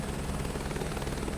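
Helicopter rotors in Microsoft Flight Simulator 2024 during a scenic flight near Everest base camp, a steady, faint, low rhythmic chopping drone with no talk.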